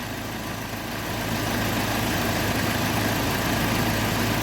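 A UAZ Patriot engine idles steadily while warming up with low oil pressure, a continuous loud droning hum that rises slightly in level after the first second and holds even, with no voices.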